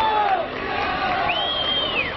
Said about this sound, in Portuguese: Cadê os aplausos?